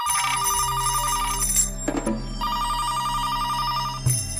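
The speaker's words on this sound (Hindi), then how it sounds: "तनिक देख तो कौन फोन खड़कावा है" A telephone rings in repeated trilling bursts, loud and close, with brief pauses between the rings and a soft thud near the end.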